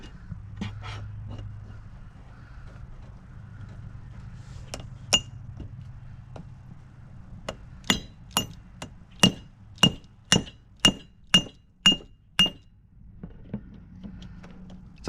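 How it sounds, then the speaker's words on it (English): A heavy 3- to 5-pound hammer beats metal car parts from a 2000 Lincoln Town Car against something sturdy, about a dozen sharp, ringing clinks in quick, fairly even succession after a few scattered earlier knocks. "I'm gonna take this 5-pound hammer or 3-pound hammer or something, and something sturdy on the other side, and beat them together"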